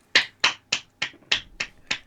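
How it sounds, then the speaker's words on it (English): Tails applauding alone in a Sonic Boom cartoon, seven sharp, evenly spaced claps, crisp and close, ringing out against silence with no voices. "Tails stop clapping."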